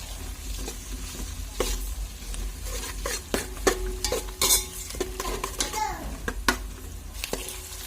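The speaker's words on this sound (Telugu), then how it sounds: "అల్లం వెల్లుల్లి పేస్ట్ కొంచెం పచ్చివాసన పోయేంత వరకు వేయించుకోవాలి" Ginger-garlic paste fries with onions and green chillies in a steady low sizzle, with sharp spoon clinks and scrapes against the pan and faint voices in the background.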